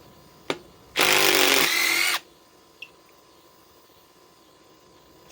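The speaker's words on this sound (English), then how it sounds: "Try it on the 3rd generation M12 impact driver." A third-generation Milwaukee M12 impact driver in speed 2 gives one loud burst of about a second as it works a fastener in an old tree stump outdoors, with small clicks before and after and quiet background.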